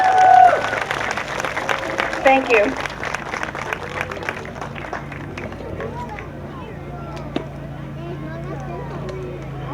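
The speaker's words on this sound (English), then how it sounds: "Please join me in a round of applause for our little ECC hero," Audience at an award ceremony for a young hero honoree, applauding in a burst of clapping that swells early and then tapers off, with a brief spoken thanks and crowd murmur.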